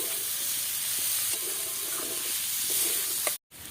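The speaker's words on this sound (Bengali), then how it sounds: "একটু নেড়ে চেড়ে ভেজে নেব, জলটা একটু শুকিয়ে নেব" Spinach and pumpkin bori stir-fried in a pan, giving a soft, steady sizzle with faint scraping of the spoon; the frying stays moderate and close, cut off abruptly near the end.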